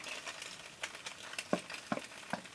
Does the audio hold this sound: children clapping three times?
no